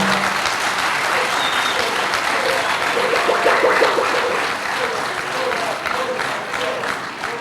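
Sustained applause from a large crowd at a public event, dense clapping swelling and fading slightly over several seconds, loud and close, with some murmuring voices mixed in.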